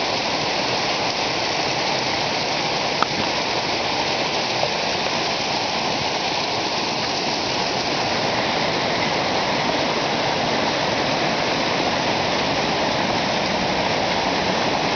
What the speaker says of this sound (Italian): Sta tenendo l'acqua, cascate da ogni parte.